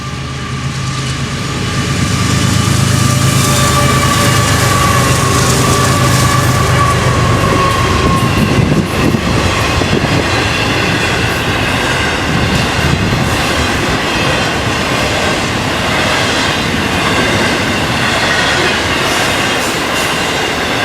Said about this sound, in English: Another day we see northbound train 208 running in last light with two champion ES44s.